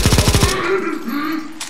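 Rapid automatic gunfire in the CS:GO zombie escape mod, a loud burst of about six close shots in quick rhythm, followed by game ambience and a faint voice.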